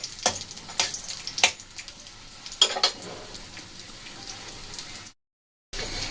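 Dry red chillies frying in a hot wok, with crackling sizzle and sharp bursts of spatter across a steady hiss, a short dropout of silence near the end before the frying resumes.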